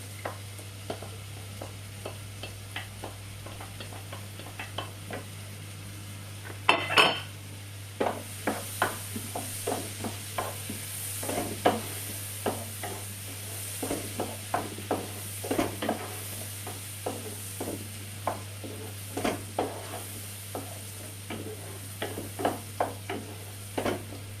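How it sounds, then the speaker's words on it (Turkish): Sliced dry onion sautéing with carrots for an artichoke pilaf sizzles steadily in a pan, while a spoon stirs with repeated scraping taps and one louder clatter early on. "Kuru soğanımı da ilave ediyorum."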